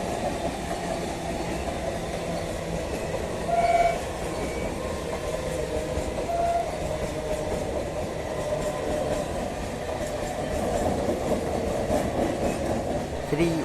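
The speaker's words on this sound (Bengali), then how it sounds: "31822 down Krishnanagar city Sealdah local Kanchrapara rail station platform number 2" The 31822 Down Krishnanagar City–Sealdah local train rumbles steadily past Kanchrapara station, a continuous rolling rail noise with faint clatter and brief tonal squeals, while a station announcement drones under it.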